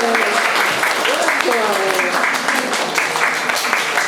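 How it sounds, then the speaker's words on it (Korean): Continuous applause from a cinema audience at a film screening Q&A fills the whole stretch, with a voice or two rising briefly over the steady clapping. "한번 일어나서 박수 한번 쳐주셨으면 좋겠어요."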